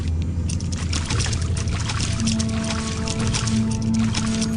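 Water sloshes and laps gently and continuously while a character bobs in the water in Deus Ex; a low steady hum joins partway through.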